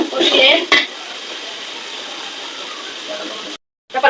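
Meat and ginger stir-frying in a pan give a continuous close sizzle with a spatula scrape at the start and more scraping just before the end.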